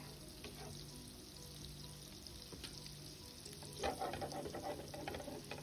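Olive oil and butter melt and heat in a pot, a soft continuous frying sizzle with a brief stirring scrape near the end, faint and close.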